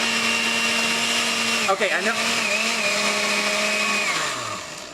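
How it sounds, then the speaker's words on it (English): A kitchen blender whirs steadily while blending a sauce for Vietnamese-style spring rolls, a loud tonal motor whine that dips briefly as the contents shift, then winds down at the end, with a brief spoken word over it. "And I'm gonna blend this, and look how fabulous that blends"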